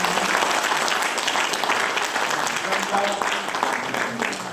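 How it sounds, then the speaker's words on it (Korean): A large audience claps loudly and steadily after a lecture on unification and North Korean human rights, sustained dense applause with some crowd murmur mixed in throughout. "다시 한번 큰 박수를 부탁드립니다"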